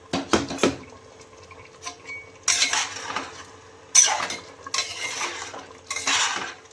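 A spoon scrapes and clinks against a pan as duck curry with spices is stirred, in repeated bursts of close-up scraping over a faint background sizzle.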